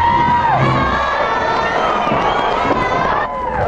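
A studio audience at a TV singing-contest show cheers and applauds loudly and continuously, with excited shouts and whoops rising out of the dense crowd noise. The sound thins a little near the end.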